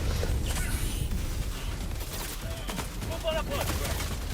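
Heavy machine gun fire in the Helldivers II video game, a dense, continuous barrage of shots rattling steadily throughout amid other battle noise.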